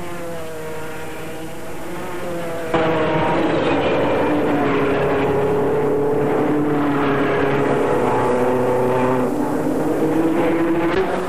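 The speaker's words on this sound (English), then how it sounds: "Before Marshal Balbo's flag had fallen, the Mercedes had taken the lead, and they led the field from start to finish." Mercedes racing cars at the 1937 Tripoli Grand Prix, a loud continuous engine drone with rising and falling pitch from the start, swelling sharply after a few seconds and holding steady to the end.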